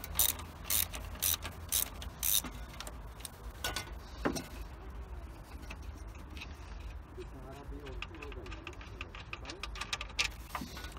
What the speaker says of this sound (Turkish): Alttaki cıvatayı da alıyorum.